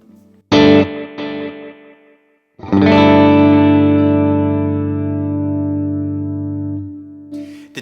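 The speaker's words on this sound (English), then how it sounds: "just hit a chord, stop it, let's hear that, and then just let the chord ring out." Two short staccato strums on an electric guitar with worship-style tone effects are followed by one full chord left to ring out. The chord sustains and fades with a delay effect, close and alone.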